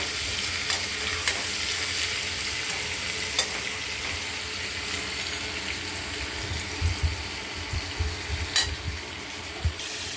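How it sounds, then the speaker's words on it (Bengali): Boiled potatoes frying with salt and turmeric in a kadai for aloo dum, a loud continuous sizzle close by, broken by utensil scrapes and knocks as the pieces are stirred. "হলুদ দেবো, এবার ভাজা করে নেব।"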